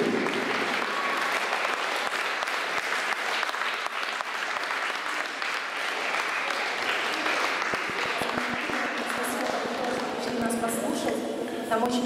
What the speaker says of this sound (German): Geben Sie mal einen herzlichen Applaus für die Kinder.